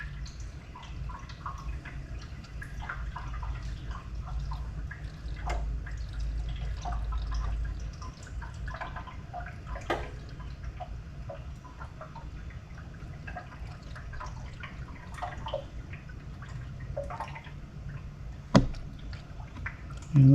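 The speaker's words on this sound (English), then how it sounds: "I'm going to go ahead and put 5 quarts of oil in here." Motor oil is poured into the engine of a 2021 Ram ProMaster City van, a soft continuous glugging trickle with scattered drips and small splashes, close and fairly quiet, without talk.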